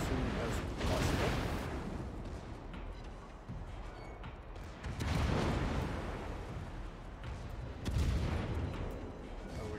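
Warship HE shells firing in the video game World of Warships, heavy booming salvos in three big rumbling blasts about every three seconds, with talk in places.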